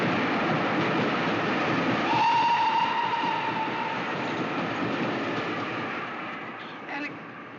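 A steam train rumbles past with rolling wheel noise, a long whistle sounding partway through, the roar gradually fading as it moves away.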